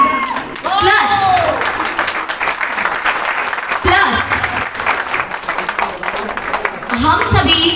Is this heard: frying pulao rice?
no